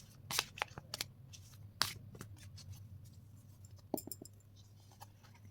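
Tarot cards are shuffled by hand, making soft, quiet riffling and papery flicks with a few crisper snaps, close up against a low background hum.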